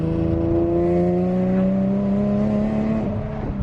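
A Nissan G35 with a VHR engine pulls away and accelerates, its close, loud engine note climbing steadily in pitch with a smooth humming drone.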